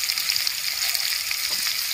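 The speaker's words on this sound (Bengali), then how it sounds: "পেঁয়াজটা হালকা করে ভেজে নেব" Chopped onion frying in hot oil in a Bengali kitchen, a bright steady sizzle with fine crackling pops, close and continuous with no voices.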